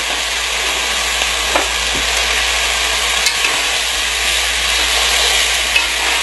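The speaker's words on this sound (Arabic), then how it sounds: "هنا يا جماعة قاعدين نحمصها عدل مدل، ضروري المعجون ينحمس" Tomato paste and mixed spices toasting in a pan for Saudi chicken maqluba give off a steady, loud sizzle, with a few sharp scrapes and clicks as a spoon stirs through them. No one speaks.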